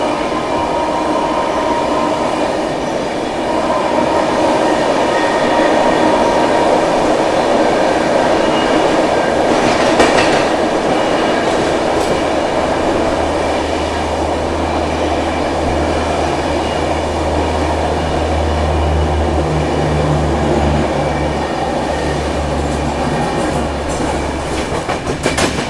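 Rolling train noise heard from inside a 3rd AC coach of the 12313 Sealdah–New Delhi Rajdhani Express, a steady loud rumble with rail clatter and a low droning hum building toward the end, no voices.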